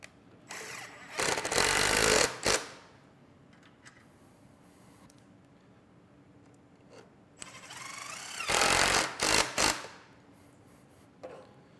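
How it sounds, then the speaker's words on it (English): Screws are driven through the back of a wooden miter gauge by a power driver, in two loud whirring bursts separated by a quiet stretch with faint handling noises. "I just put a couple of screws through the back of the miter gauge."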